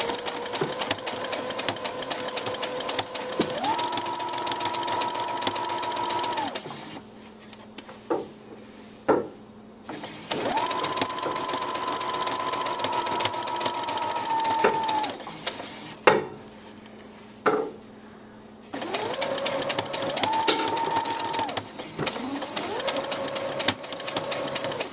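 A sewing machine stitches a straight seam on a crib sheet with a backtrack button, running in three steady motor bursts separated by quieter pauses with small handling clicks. The sound is close and clear.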